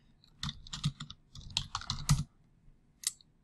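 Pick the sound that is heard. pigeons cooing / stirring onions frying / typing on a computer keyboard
typing on a computer keyboard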